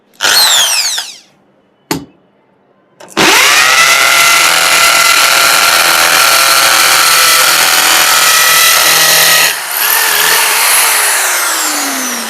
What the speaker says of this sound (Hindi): तो चलिए ड्रिल करते हैं इसके ऊपर।